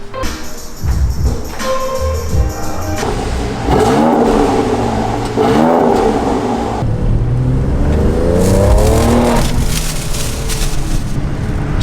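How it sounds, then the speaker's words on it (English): A loud Subaru engine in a workshop revs repeatedly, rising and falling through several throttle blips with a rough, rumbling exhaust, close and dominant throughout. "Got the Subaru motor taken care of. This thing's fucking crazy loud."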